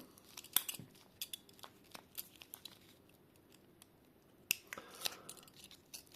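A foil or paper wrapper of a Turbo chewing gum packet being opened: sparse, sharp crinkles and tearing snaps spread over several seconds, fairly close, with a quiet gap in between and no talking.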